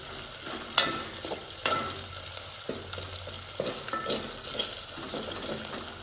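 Onions fry in a pan on a small bachelor kitchen stove, a steady close sizzle broken by a few stirring scrapes and knocks of the spoon against the pan, with no speech.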